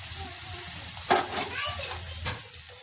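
Green masala roasting in oil in a pan for an okra curry, a steady close sizzle and fry with a few stirring scrapes, no talk over it.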